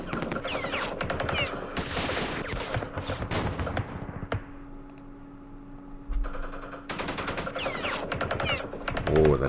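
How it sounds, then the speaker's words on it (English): Machine gun fire in the Vietnam war game Campaign Series Vietnam at Dien Bien Phu, with dense, loud bursts of automatic shots and a steady hum, a short lull in the middle, then renewed firing. "Oh, that was some good shooting."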